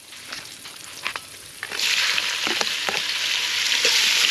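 Meat frying in rendered lard in a cauldron at a riverside campsite, starting with a few stirring knocks before a loud, steady hiss swells and holds, close up with no voices.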